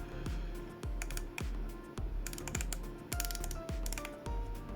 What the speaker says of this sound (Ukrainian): Оця велика крутілка, ми на неї просто також натискаємо до клацання.